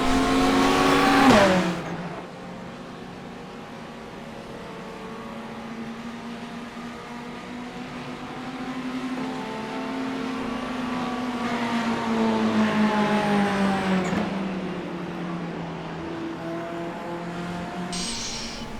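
A race car engine in the iRacing sim at Le Mans drones loudly and continuously, rising and falling in pitch through gear changes and throttle, with a sharp burst at the start and no talk.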